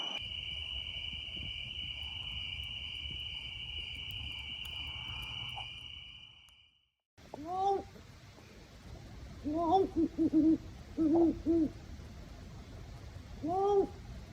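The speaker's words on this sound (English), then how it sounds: "I would not have identified that as an owl sound" An owl hooting at night at a campsite, a few soft, low hoots in short groups after a steady insect drone cuts out, fairly distant and clear in the quiet.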